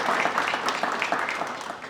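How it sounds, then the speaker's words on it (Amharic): An audience at a question-and-answer quiz contest breaks into brief, dense applause, moderately loud and steady across the whole moment. "ጭብጨባ አንድ ጊዜ ሞራል።"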